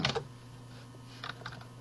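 Computer keyboard keys pressed while working in design software, a quick burst of close, crisp taps at the start followed by a few more clicks after a pause, in an otherwise quiet room.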